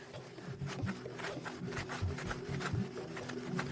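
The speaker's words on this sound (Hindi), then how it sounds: "अब मैं फायर सॉ को इसके साथ रगड़ रहा हूं" A wooden fire saw rubbed back and forth against a fixed wooden base to make an ember in the jungle, a steady rhythmic rasping scrape repeating close and continuous.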